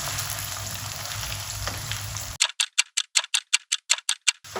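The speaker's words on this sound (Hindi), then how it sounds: "नीचे से आपने आंच तेज रखनी है, हमने इनको फ्राई करना है" Potatoes frying on high heat give a loud continuous sizzle that cuts off abruptly, followed by a rapid run of about a dozen sharp rhythmic ticking bursts.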